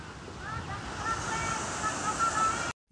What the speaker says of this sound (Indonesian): tanggul tak mampu menahan derasnya air Sungai Wulan